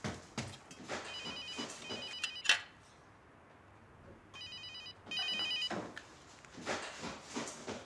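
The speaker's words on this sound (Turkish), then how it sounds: "Telefon çalıyor bir yerde." An indoor telephone ringing in two electronic bursts of repeated trilling, the first near the start and the second after a pause of quiet, with soft rustling and handling noises between.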